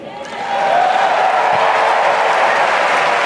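A large crowd at the Democratic National Convention breaks into applause and cheering, swelling quickly and then holding as a loud, dense roar.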